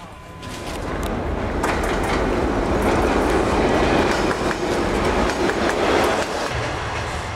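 A train runs steadily along railway tracks in the Silk Road region near Xi'an, China, producing a continuous loud rumble with clickety-clack wheel noise that swells after the first second and holds throughout.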